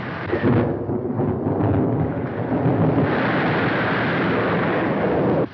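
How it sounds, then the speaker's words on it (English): Thunderstorm at sea as a typhoon approaches, in a 1933 serial: a dense, continuous roar of wind and rumbling thunder, loud and unbroken throughout, with no voices. "There's a storm coming."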